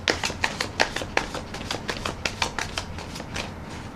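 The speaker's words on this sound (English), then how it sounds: "so I want to do one more shuffle and rifle" Tarot cards are shuffled and riffled by hand, giving a close series of quick papery snaps and flutters in an uneven rhythm, with no talking.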